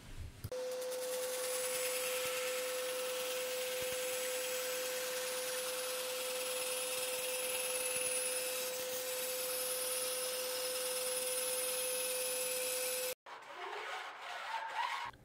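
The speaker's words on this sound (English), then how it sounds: "to get a real nice cut, I take it over to the bandsaw and finish cutting it out" A bandsaw cuts a storage box panel for a Zenith CH-750 aircraft in a steady, loud whine lasting over ten seconds, then stops abruptly, leaving quieter workshop noise.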